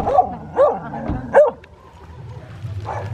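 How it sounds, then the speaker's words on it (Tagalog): A few sharp barks from a dog nearby, spaced irregularly, with quieter whimpering and faint background noise between them. "Yung mga aso makahol."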